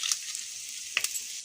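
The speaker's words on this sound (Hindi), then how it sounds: "हरी मिर्च और अदरक इस तरह से हल्की सी जब पक जाए तो ये रोस्ट की हुई मसाले में डाल दे रही हूँ" Green chili and ginger fry in roasted spices, giving a steady, soft sizzle close by with a few brief sharper crackles and spatters.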